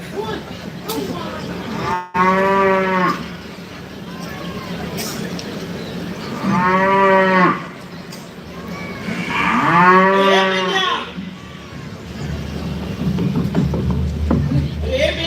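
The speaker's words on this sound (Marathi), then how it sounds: "अरे काय तुझी ही गाय" A cow moos loudly and close by three times, each long low call separated by a few seconds, with people talking nearby in between.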